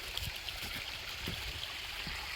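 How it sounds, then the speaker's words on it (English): Creek water flows steadily at an off-grid pumping spot, a faint, continuous rushing wash with a few soft gurgles and low knocks. "You can hear water. It's a lot of water."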